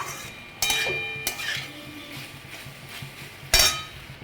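A utensil stirs no-onion, no-garlic bhog food in a cooking pan for an Annapurna puja, giving several sharp metallic clanks against the pan over a low background hiss.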